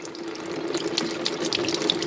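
Engine coolant drains fast from a Dodge Durango into a tray, a steady splashing trickle like a running tap, close and continuous with small bright splatters throughout.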